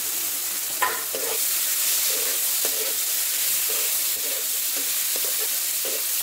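Cumin, bay leaf and onion fry in hot oil in a pan over a traditional clay stove, giving a continuous close sizzle broken by light scraping stirs.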